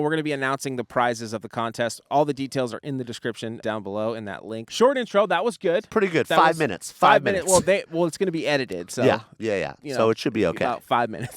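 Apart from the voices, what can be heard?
No distinct noise like a dog, phone or traffic.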